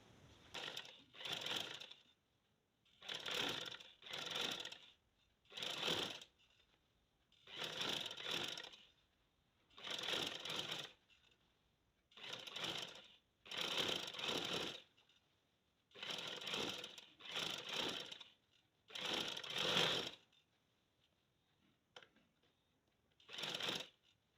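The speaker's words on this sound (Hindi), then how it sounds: "ये किनारी की हम सिलाई लगा रहे हैं ऊपर" A sewing machine stitches along the lace edge of a child's tulip salwar, running in short repeated bursts of rapid clatter separated by brief pauses, close and fairly quiet.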